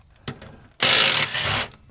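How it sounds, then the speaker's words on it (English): Pneumatic impact wrench with a 1/2 inch socket on a suspension bush bolt of an R50/R53 Mini, one loud close rattling burst of under a second following a faint knock. "We can use a impact wrench on this one here though."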